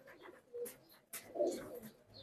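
Pigeons coo softly in a loft at Gabtoli, two low, rounded cooing bursts close by with a short pause between them and no talking.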